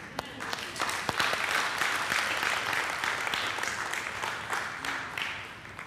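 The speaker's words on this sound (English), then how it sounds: "give yourself a round of applause." A church congregation claps together in a sustained burst of dense, fairly loud applause that holds steady for several seconds, with sharp individual claps standing out near the start.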